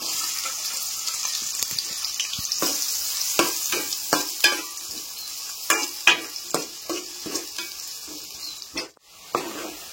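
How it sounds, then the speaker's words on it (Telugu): Chopped onions fry in hot oil for Telangana-style chicken curry, a bright steady sizzle close by, punctuated by a dozen or so sharp scraping stirs of a spoon against the pan. "ఉల్లిగడ్డలు అయితే ఫ్రై అయినాయండి"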